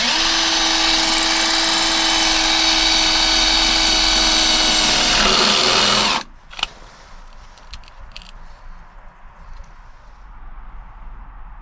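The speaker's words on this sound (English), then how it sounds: "my bits don't go into brick too well, so I'm going to go into the cement instead" Power drill boring into cement beside brick while mounting a Blink video doorbell, a loud, steady whine for about six seconds, then it stops, leaving faint clicks and handling noise.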